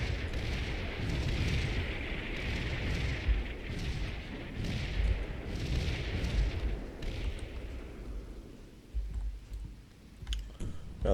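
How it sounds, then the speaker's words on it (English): Rocket artillery firing in the video game Combat Mission: Red Thunder, a dense rolling rumble of launches and distant impacts that swells and fades in waves, with scattered sharper crackles near the end. "There's the rocket artillery."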